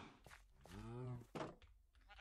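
A sheep in the Minecraft video game gives one clear wavering bleat, close and distinct, framed by soft game thunks and clicks, with a speaker talking nearby.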